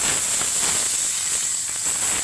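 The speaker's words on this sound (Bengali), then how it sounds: "এবার আমি জিরে ফোড়ন দিই। জিরেটা ফোড়ন দিলাম, তার সাথে 2টো তেজপাতা দিয়ে দেবো।" Cumin seeds and two bay leaves tempering in hot oil for a fish kalia, a constant close hiss of spluttering oil filling the short moment without speech.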